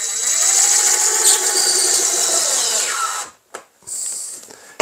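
A power drill drives screws into a wooden shipping box with a loud, steady whine that rises and falls, then stops in short bursts before the motor briefly spins up again.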